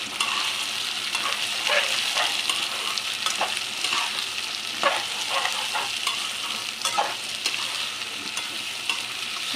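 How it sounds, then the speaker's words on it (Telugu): Vegetables stirred and fried in a pan for white kurma, with a continuous close sizzle broken by repeated scraping strokes of the spoon. "ఇలా బాగా మిక్స్ చేసుకోవాలి."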